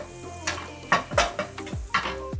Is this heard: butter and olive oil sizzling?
yes